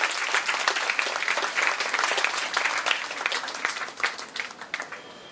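A crowd claps at a college carnival in Nagpur as the director is welcomed to the stage, loud, dense, sustained applause that thins and becomes more scattered toward the end.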